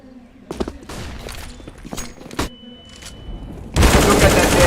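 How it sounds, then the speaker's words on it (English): AK rifle gunfire in CS:GO, heard as several quick bursts of shots at mid distance, with footsteps and game noise between them and a loud surge of noise at the end. "now Zyphorium is going crazy with that AK"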